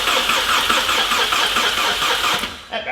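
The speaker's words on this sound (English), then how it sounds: "I don't think that's going to start with that battery." A VW Jetta's starter cranks on a weak battery, a loud continuous rapid chugging churn that grinds on for over two seconds without catching, then cuts off abruptly.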